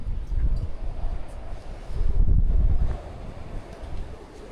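Strong wind in Marseille buffets the microphone in low, rumbling gusts that swell and fade, loudest in the middle, with no voices.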